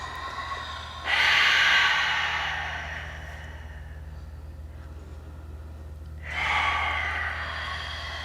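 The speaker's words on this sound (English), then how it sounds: "you can exhale through your mouth. Lion's breaths, just to cool your body down." Forceful open-mouth exhales of yoga lion's breath, two long breathy whooshes roughly five seconds apart, close and fairly loud over a steady low hum of desert outdoor air.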